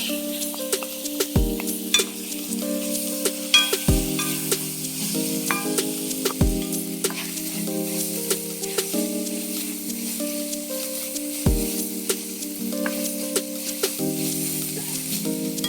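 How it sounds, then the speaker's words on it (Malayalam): Chopped tomato tossed into onions already browned in a hot pan, frying for a prawn roast masala, with a steady sizzle and stirring clatter of a utensil against the pan throughout, close and alone without talk. "ഇനി അതിനകത്തോട്ട് ഞാൻ ഈ തക്കാളി ഇടുക."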